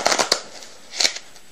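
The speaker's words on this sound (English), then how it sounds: "a riffle shuffle" A riffle shuffle of a deck of playing cards during a card trick, heard as two short, soft bursts of fluttering card snaps, close and quiet with no talking.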